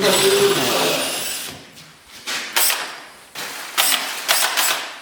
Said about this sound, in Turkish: Gördüğünüz gibi ölçüler dahilinde delme işlemleri yapılıyor.